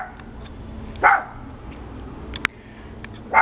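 A dog barks three times, with short loud barks spaced across the stretch, fairly close outdoors over low background rumble and a brief sharp knock.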